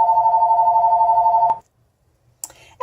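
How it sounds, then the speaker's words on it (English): An indoor telephone rings with a steady, warbling electronic tone for about a second and a half, then cuts off into near silence before a brief rustle. "great, the phone's going"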